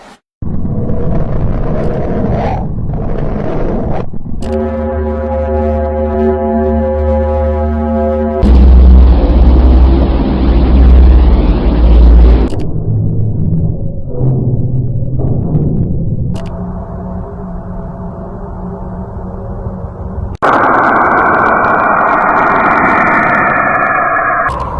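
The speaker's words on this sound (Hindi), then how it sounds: "साइंटिस्ट ने प्लैनेट से आ रहे इलेक्ट्रोमैग्नेटिक वेव्स को ऑडिबल साउंड वेव में कन्वर्ट किया जिससे उन्हें सुना जा सके और उन्हें ये आवाजें मिली" Planetary electromagnetic emissions from space converted into audible sound: a sequence of eerie droning tones, rumbling hums and whooshing textures that shift abruptly every few seconds, loud and continuous with no voices.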